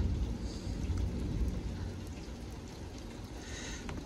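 Heavy rain pours steadily during a strong thunderstorm, a dense, loud wash of noise that stays constant throughout without a break.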